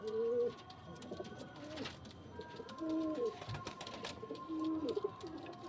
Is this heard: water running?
no